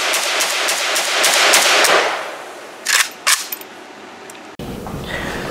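A Molot VEPR .308 semi-automatic rifle fires a loud, rapid string of sharp cracks outdoors, then two more separate shots after a brief pause, with no voices.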